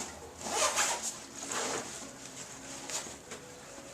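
A zipper is pulled open on the front pouch of a soaked backpack after a shower test. It gives several quick, close rasping zips in short bursts with quiet pauses between them, and no talking.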